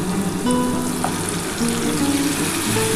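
Bottle gourd leaves go into a hot frying pan with hilsa fish head, giving a steady close sizzle and crackle of frying.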